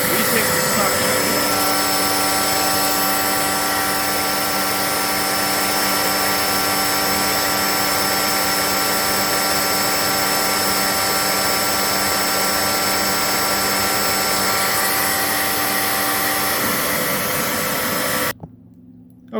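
A Riccar R30D vacuum cleaner runs steadily and loudly during an airflow test, a constant whooshing roar with a steady motor whine that holds for about eighteen seconds before cutting off abruptly.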